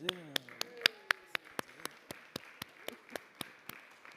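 Slow, evenly spaced claps in the New York City Council chamber, about sixteen sharp hand claps over four seconds, fairly close and distinct, with speech at the start.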